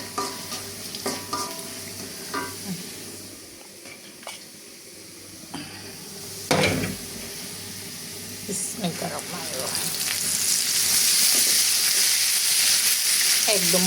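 Garlic fries in a pan for a village dish of drumstick leaves, a soft sizzle with stirring taps that swells into a loud, steady hiss near the end, with someone speaking over the start.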